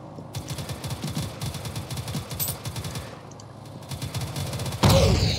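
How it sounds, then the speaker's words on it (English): Rapid gunfire bursts in the Roblox game Harbor Havoc, dense repeated shots rattling steadily for several seconds before a louder, closer blast near the end. "Oh, I'm being shot."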